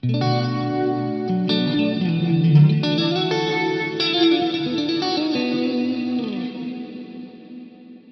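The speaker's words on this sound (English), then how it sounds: "it's no longer going to sound reverby. It might sound a bit more like a chorus or a flanger." Guitar notes through an Axe Fx III delay effect that shimmers and wavers like a chorus, repeating and smearing into each other before slowly fading out.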